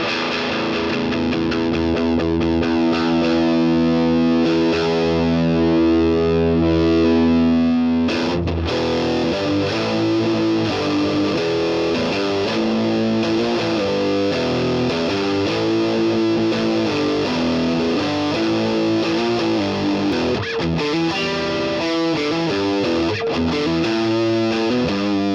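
Electric guitar played through a Boss DS-1 distortion pedal with the distortion knob at maximum, producing loud, saturated, sustained chords and riffs with thick harmonic fuzz throughout, no talking.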